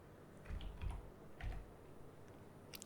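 Typing on a computer keyboard into a search bar: a few quick, soft key clicks in two small bursts, close but quiet, with no talking.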